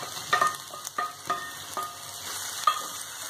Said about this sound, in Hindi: तेल गर्म हो गया है, अभी सभी चीज डाल देंगे, प्याज, मटर,